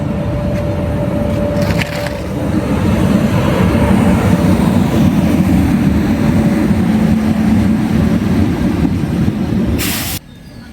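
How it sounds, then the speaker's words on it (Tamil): The Jogbani Amrit Bharat Express rolls into Erode Junction, its wheels clattering and rumbling loudly and steadily along the platform. Brief hisses are heard before the noise cuts off. "உள்ள வண்டி வந்துகிட்டு இருக்குங்க."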